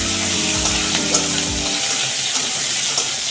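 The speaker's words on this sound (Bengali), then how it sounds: "বেগুনটা আমি একটুখানি নেড়ে দেবো।" Eggplant frying in oil in a pan for a Bengali mixed-vegetable labra, with a steady broadband sizzle and a few soft stirring knocks early on, close and continuous without speech.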